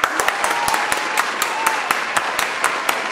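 People clap in a steady, evenly spaced rhythm, each sharp clap loud and close over a constant bed of background sound.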